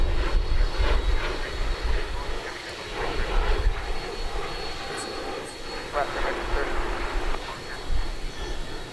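A Boeing 737-800 jet roars steadily as it departs DFW Airport at night, a broad continuous engine rumble holding fairly loud throughout, with voices talking over it.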